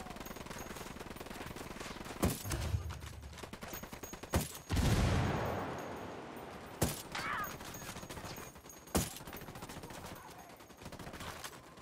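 Gunfire in the video game Ghost Recon Wildlands, several sharp loud shots and short bursts scattered over a low rumbling background, with one longer roaring blast in the middle.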